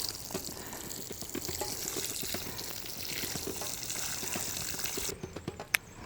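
Smelly liquid fertilizer glugs and splashes steadily over garden plants and their leaves, a continuous close pour with small drips, tapering off into a few scattered drops at the end.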